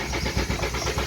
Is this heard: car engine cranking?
yes